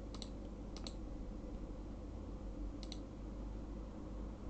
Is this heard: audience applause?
no